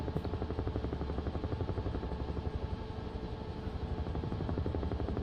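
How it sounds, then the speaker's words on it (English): A Huey helicopter's rotor in Microsoft Flight Simulator gives a loud, steady, rhythmic thwop with deep engine drone, continuous and close throughout. "get some Huey thwop going"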